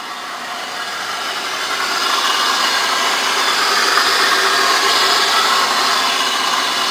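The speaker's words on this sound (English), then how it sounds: "You can probably hear the supercharger a little better if I go on this side." A 1998 Oldsmobile LSS with a supercharged engine runs steadily with a broad, hissing whine, heard close and fairly loud, rising slightly as it is revved, with no one talking.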